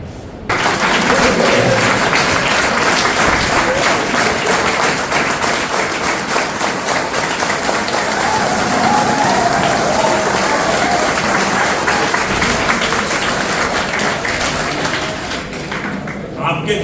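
A large audience at a university campus session bursts into sustained loud applause, dense clapping filling the room for over fifteen seconds before easing slightly at the end.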